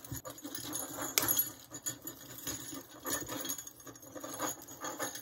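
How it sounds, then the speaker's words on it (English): Wired handles on farmhouse-style Christmas decorations jingle and clink as they are pulled apart, giving a run of light metallic rattles and taps at close range with no talking. "Sorry for the jingling."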